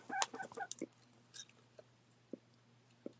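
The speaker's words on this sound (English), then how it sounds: "That's the other rooster that I have." A rooster gives a few short clucks and squawks close by at first, then only sparse faint calls sound over a quiet background hum.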